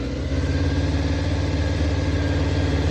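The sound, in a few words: Honda CBR600F4 motorcycle engine idling at 1500 RPM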